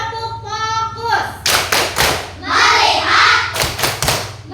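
A primary school class performs the 'tepuk fokus' clapping chant in a classroom, with several sharp group claps and thumps between stretches of chanting children's and teacher's voices, loud and close.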